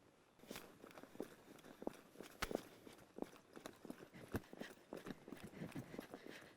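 A horse trots steadily in circles to the left under a rider, its hoofbeats landing in a regular two-beat clip-clop. The footfalls are fairly close and alone, with no talking.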